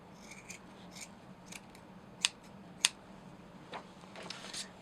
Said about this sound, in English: now we can trim this